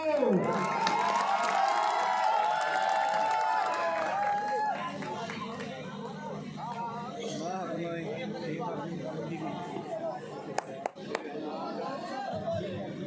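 A lively crowd at a village volleyball tournament cheers, shouts and claps, loudest at first, then settling into continuous chatter with scattered claps and a few sharp hits, while an announcer's voice carries over it.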